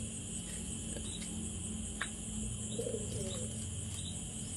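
Soft pigeon cooing and occasional faint chirps from a pigeon loft, low and distant beneath a constant background hum and hiss, with no talking.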